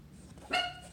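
A dog gives a single short, sharp bark at close range, preceded and followed by quiet background.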